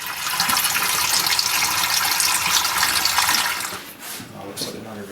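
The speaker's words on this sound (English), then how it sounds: "Wash some of the chemistry off the back" Running water rinsing photographic chemistry off the back of a tintype plate, a steady close gush for about four seconds that then tapers off.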